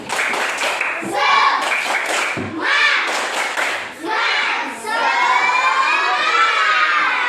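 A class of children claps in quick rhythmic bursts and shouts together in a spirit-clap chant, ending in a long cheer.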